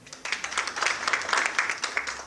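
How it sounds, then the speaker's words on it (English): Audience clapping to welcome a speaker at an autism therapy centre event in Nyeri County, Kenya: a steady, moderately loud patter of many hands filling the room, with no talk over it. "Please give her a clap."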